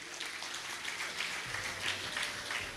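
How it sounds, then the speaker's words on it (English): A seated audience at a Rotary installation ceremony claps in a continuous, fairly faint patter of many hands, with a low murmur underneath partway through. "as our resident governors receive a warm round of applause from all of you"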